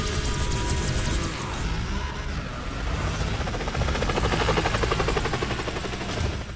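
An attacking helicopter in the racing video game Split/Second gives a loud, steady rotor chop with rattling mechanical noise and bursts like gunfire, continuous throughout with no voices.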